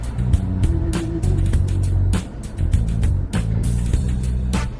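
Steady interior road noise from a car driving among lorries: a constant low engine drone and hum with intermittent bumps and clicks, loud and close throughout.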